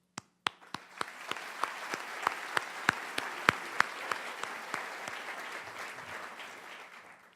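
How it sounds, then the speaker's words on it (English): An audience at a student recognition awards ceremony bursts into sustained applause, sharp individual claps rising over a dense wash of clapping that holds steady and then slowly thins out, with no talk. "We are gathered here together to applaud your great work."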